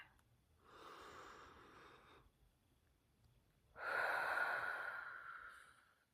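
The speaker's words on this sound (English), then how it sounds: "we can take a deep breath together" Two slow, deep breaths drawn in close to the microphone, the second louder and sharper as it rushes through the nose, separated by a quiet pause.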